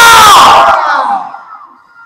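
A large crowd at a Bangla Islamic sermon gathering shouts the takbir chant together in a loud unified burst that quickly cuts off, leaving a fading echo.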